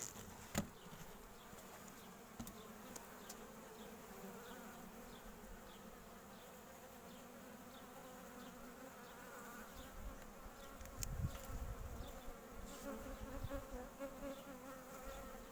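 Honeybees hum in a continuous, dense buzz around a hive, with individual bees droning past now and then, and a brief rustle near the end, during a hive inspection.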